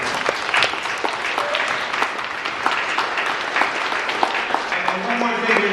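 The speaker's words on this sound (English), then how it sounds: "another round of applause for the perfect attendance" Audience applause at an evening ceremony, dense, continuous clapping from a crowded room with a few voices mixed in, steady and fairly loud throughout.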